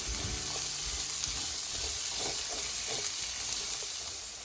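Onions sautéing in a pan for a Goan prawn chilli fry, a steady broadband sizzle and crackle with scattered stirring clicks, close and continuous throughout with no voices.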